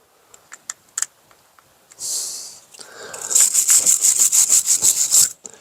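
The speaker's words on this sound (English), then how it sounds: "we're going to hit those terminals with the wire brush" A wire brush scrubs corroded car battery terminals on a Lexus CT 200, starting with a few scattered scrapes and settling into a fast, steady run of close, harsh, rhythmic strokes.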